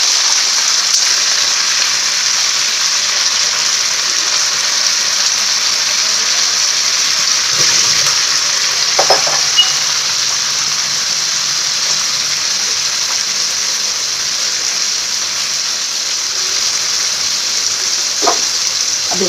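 Eggplant and potato pieces frying in hot oil in a pan over a lowered gas flame, a steady bright hiss and sizzle running throughout with a few faint clinks and taps, no talk.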